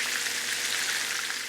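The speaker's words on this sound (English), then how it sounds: "Hot oil sizzles each bite-sized salmon piece." Breaded salmon cheek pieces, dipped in egg wash and soda cracker coating, fry in hot oil with a steady, dense, crackling sizzle, loud and close throughout, with no voices.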